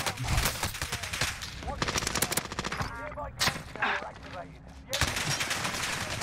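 Warzone gunfire pours in from several directions, loud automatic bursts and single shots hitting nearby in quick succession, with a brief lull before firing resumes and faint game voices mixed in.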